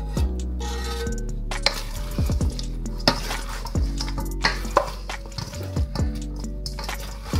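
Chicken wings are tossed with lemon sauce in a bowl, with repeated close clinks and scrapes of utensils against the dish and wet stirring in an irregular rhythm. No one speaks.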